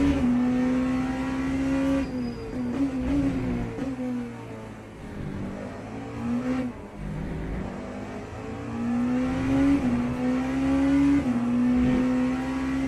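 Porsche race car engine in the sim racing game Le Mans Ultimate, a loud continuous roar that climbs and falls through repeated gear changes and lifts, with brief tire squeal, no talking.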